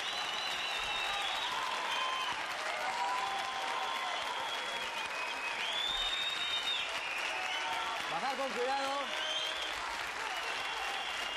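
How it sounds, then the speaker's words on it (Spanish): A television studio audience rises for a standing ovation, dense sustained applause filling the whole stretch while a presenter speaks over it. "La ovación tremenda."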